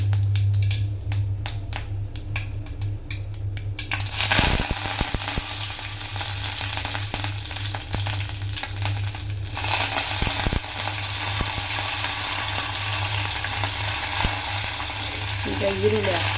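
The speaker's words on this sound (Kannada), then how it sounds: "ಜೀರಿಗೆ ಹಾಕ್ತಿದ್ದೀನಿ. ಕರಿಬೇವು ಹಾಕ್ತಿದ್ದೀನಿ." Cumin seeds and curry leaves hitting hot oil for bitter gourd palya, a sudden loud crackling burst that settles into a steady, close sizzle with scattered pops, under a low hum.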